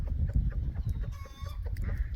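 Ducklings or small fowl calling near a coop as they venture out, soft clucking and chirping notes scattered over low rumbling background noise.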